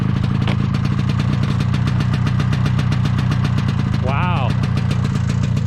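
An old snowmobile engine idles close and loud with a rapid, steady chugging pulse, while a person exclaims briefly over it.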